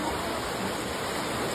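Strong current of floodwater rushing steadily, a loud, dense broadband roar with no breaks, close and continuous throughout.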